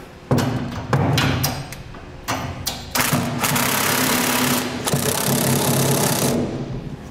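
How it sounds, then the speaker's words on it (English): A power tool tightens Curt gooseneck hitch bolts on the frame of a 2015 GMC Sierra, with several short whirring bursts followed by a longer sustained run, loud and close. "We'll tighten these first and then we'll move out to the outside of our frame."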